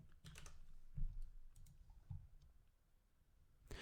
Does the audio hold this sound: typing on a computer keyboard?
yes